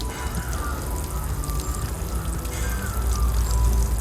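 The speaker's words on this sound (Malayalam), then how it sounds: "എന്നിട്ടിത് മണ്ണിട്ട് മൂടുന്നതിന് മുമ്പ് കുറച്ച് വെള്ളം ഒന്ന് ഒഴിച്ചു കൊടുക്കണം" Water poured onto soil and coconut husk in a planting pit for a budded varikka jackfruit sapling, a continuous close gurgling pour with splashing and a low rumble that grows slightly louder toward the end.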